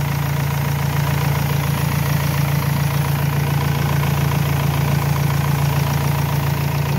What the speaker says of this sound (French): Là, on a enlevé le plus. Le moteur continue à tourner.